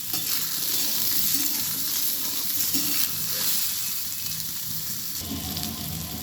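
Mixed vegetables fry in oil with fenugreek greens, making a steady, close hiss of sizzling with soft stirring movements throughout and no talk.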